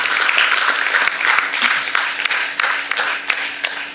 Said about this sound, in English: the big round of applause to all the top 9 teams participating today